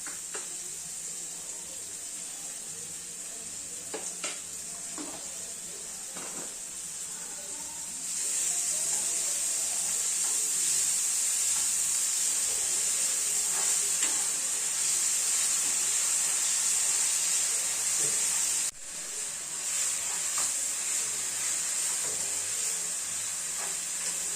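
Finely chopped onion with salt frying in a pan, a steady bright sizzle that grows louder partway through, with occasional stirring clinks and a brief dip before resuming.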